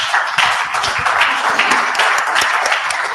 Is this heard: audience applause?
yes